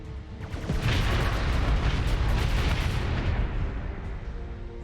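Ship weapons in the space combat game Starsector fire in a heavy, continuous barrage of booming blasts and crackling impacts, loud and dense throughout.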